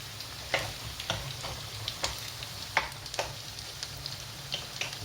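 Onions and eggplants fry steadily in a pan for Sicilian caponata, a constant close sizzle broken by a spatula's scrapes and clacks roughly every half second.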